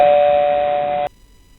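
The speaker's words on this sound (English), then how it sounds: "It was then that the doorbell rang again." A doorbell gives a single steady electronic ring with a bright, sustained tone that lasts about a second, then cuts off abruptly into near silence.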